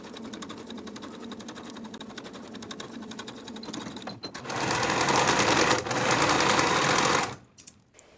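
A sewing machine stitches the bottom edges of a jeans pocket lining, running at a steady moderate pace, then speeding up into a louder, faster burst before stopping with a couple of brief clicks.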